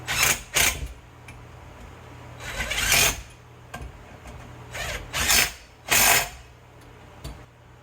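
Power tool driving fasteners to tighten down the mount of a cheap hydraulic tubing bender, heard as several loud, close bursts of whirring, spaced irregularly with quieter mechanical handling between them.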